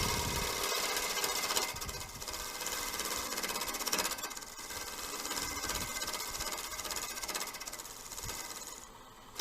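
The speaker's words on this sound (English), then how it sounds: "a close-up of Lyle Jamieson's hollowing system in action" A woodturning lathe with a Lyle Jamieson hollowing system cuts into wood, giving a continuous buzzing, rattling grind with steady chatter that holds throughout at moderate level.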